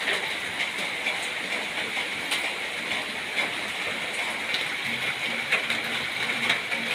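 Steady rain hisses without pause, with scattered patters and ticks of drops striking a nearby surface.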